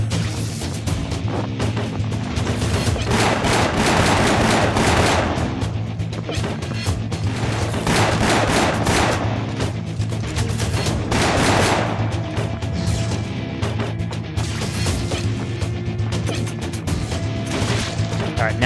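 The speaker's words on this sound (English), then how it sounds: "kill one of those flappy fish men with a slightly charged arm shotgun to the face" Shotgun blasts in the video game Afterfall Reconquest, several heavy booming shots and crashes, loud and close, repeating every few seconds over continuous game noise.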